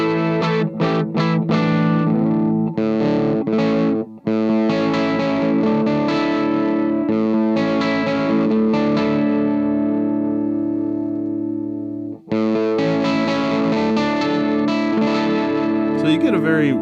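An electric guitar plays through an Affogato fuzz pedal set to low gain, giving a warm, mid-heavy tone with little treble. Sustained chords and lead notes ring out close and loud, with two brief breaks.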